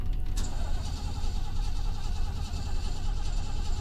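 In the horror game Fears to Fathom, a stranded car's engine is cranked in a start attempt, a steady low churning rumble heard close for a few seconds without voices.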